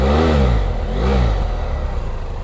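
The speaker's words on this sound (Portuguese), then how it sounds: "eu vou estar mostrando aqui o barulho, o ronco desse motorzão aí" A BMW F800GS motorcycle engine revs up close. Two quick throttle blips rise and fall in pitch, and then it settles back to a rough, throbbing idle.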